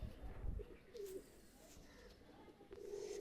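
Pakistani high flyer pigeons, a female among them, give soft, low coos in short bursts, near and fairly faint against a quiet room background with some low handling noise.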